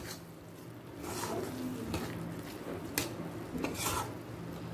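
A utensil stirs and scrapes through shrimp curry in a pot as garam masala powder is mixed in after the gas flame is turned off. Several irregular scraping strokes and light clinks sound close by, over a faint residual sizzle.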